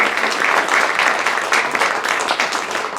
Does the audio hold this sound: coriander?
no